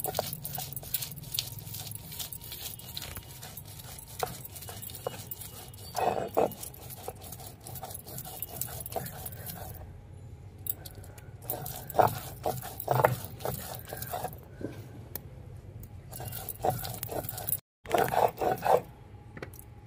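Garlic cloves are ground into paste on a stone, giving repeated scraping, rasping strokes with soft patters, close and moderately loud, in an irregular rhythm with short pauses.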